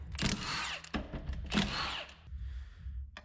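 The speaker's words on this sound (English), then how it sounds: "With a 10 mil, we're going to take our front seal bolts off." Bolts on the front seal of a 700R4 transmission from a 1990 Suburban are loosened with a 10 mm power tool, heard as two loud whirring bursts separated by a short pause, close up, with a quieter buzzing tail.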